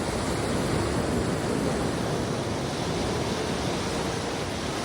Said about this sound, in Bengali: একটা ঢেউ আসার পর আরেকটা ঢেউ ব্যাক করছে, দুটো ঢেউয়ের যে সংঘর্ষটা